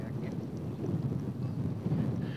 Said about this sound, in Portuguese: E o vento aqui bate forte.